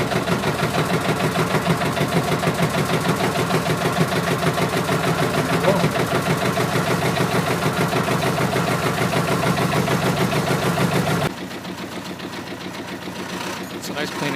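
A 17-foot Davidson Chugger boat's diesel engine running at idle without extra throttle, heard as a loud, steady rhythmic chugging up close that drops abruptly to a quieter tone near the end.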